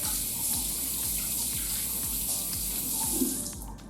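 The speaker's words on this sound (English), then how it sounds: "we want to wash it off with cold water" Cold water runs steadily from a tap into a sink while skin is rinsed, a continuous close splashing rush with faint rhythmic pulsing and no speech.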